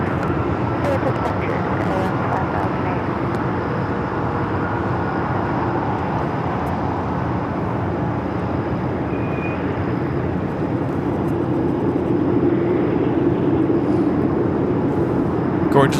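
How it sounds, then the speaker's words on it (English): An Air Tahiti Nui Boeing 787 Dreamliner arriving at LAX from Papeete produces a steady broad jet rumble and whine at moderate distance, lasting the whole stretch beneath ongoing talk. "First of 2 Air Tahiti Nui Dreamliners coming in from Papeete."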